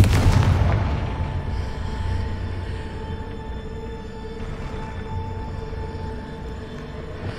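Repeated Confringo spell blasts in the video game Hogwarts Legacy, a heavy explosive boom at the start followed by a long rumbling, ringing decay that stays loud throughout.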